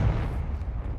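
Confringo explosive spell in Hogwarts Legacy, a quick low boom that fades into a rumbling tail, moderately loud and heard alone for about a second.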